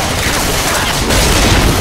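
A loud explosion in the Left 4 Dead 2 zombie shooter, set in a zombie-filled hotel, heard as a dense, noisy blast whose sustained rumble swells midway and fills the whole clip amid game noise.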